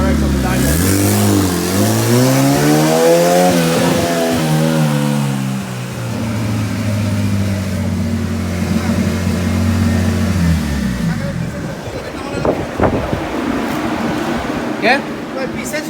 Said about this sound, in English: Driving the CRX on the Dyno.